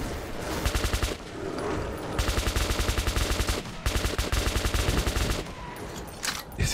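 Rapid bursts of automatic gunfire in the video game Metro 2033 Redux, several volleys separated by short gaps, loud and close.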